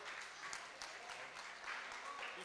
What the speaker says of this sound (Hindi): जोरदार तालियों के साथ युविका।